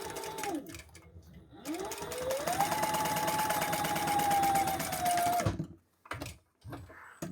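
Close up, a sewing machine top stitches a folded seam on a crossbody bag, speeding up to a steady, rapid whir with rising motor pitch, then stopping, followed by a few quiet handling sounds.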